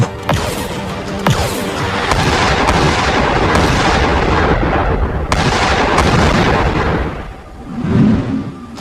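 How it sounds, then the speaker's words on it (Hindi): A blasting gun firing as a cartoon sound effect: a rapid burst of sharp, booming shots that run together into a loud, rumbling barrage, fading out and ending in one low thud. "मेहुल तुरंत अपनी ब्लास्टिंग गन निकालता है।"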